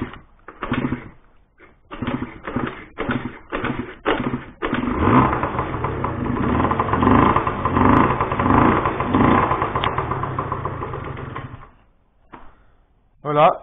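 A Ride Race 50 GT scooter engine cranks in several short bursts, catches, then runs loudly at a steady, slightly revving idle before cutting off, with a brief burst at the end.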